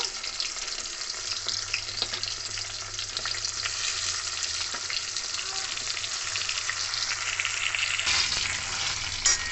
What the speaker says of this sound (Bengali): এবার বেগুনকে সবগুলোকে ভালো করে ভেজে নেব।